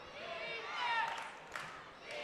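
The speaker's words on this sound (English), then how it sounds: "Crowd comes alive behind us." A Big 12 college football crowd roars and cheers in the stadium, a dense swelling wall of noise with a play-by-play voice talking over it.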